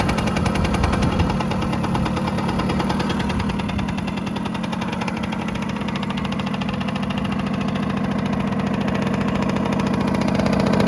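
A 1987 Yamaha YSR50 two-stroke motorcycle idles after a kick start. The engine gives a steady, rapid, buzzing putter at close range and holds even and loud throughout.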